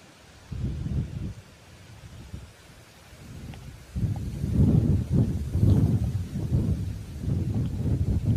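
Strong wind blows over an open rice paddy, buffeting the microphone in repeated low rumbling gusts that rise and fall, growing stronger toward the end.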